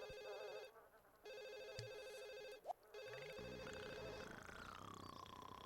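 A telephone rings in The Sims on console, a steady electronic ring tone with a brief gap, heard over a bed of game music.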